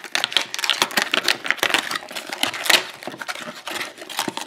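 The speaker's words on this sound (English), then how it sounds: "That's harder to get into this package, harder than the previous lock" Stiff plastic packaging of a Lockwood 334B45 high-security padlock being pried and torn open, giving a dense run of crinkling, crackling snaps and clicks close by, with no voices.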